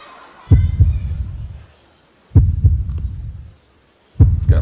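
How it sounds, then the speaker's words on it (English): Heartbeat opening a live performance of a song: three deep, booming double thumps spaced about two seconds apart, each low throb swelling and fading with a soft hum between beats. "Got a heartbeat going on at the beginning."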